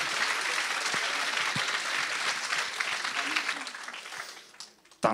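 An audience at a university science-talk final in Lyon gives steady, dense applause that fades out near the end, with a brief voice audible as it dies down.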